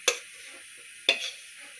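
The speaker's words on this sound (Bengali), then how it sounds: "মাংসগুলো দিয়ে ভালো করে নেড়ে মিশিয়ে দিতে হবে।" Two separate scraping strokes of a spoon stir mutton pieces into drying khichuri in a pan, each a short, close scrape with a soft sizzle trailing after it.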